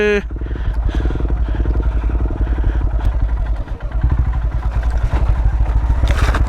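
A motorcycle pulling away in first gear on a hill trail, its engine chugging steadily and close throughout with some clatter, mostly alone with little talk.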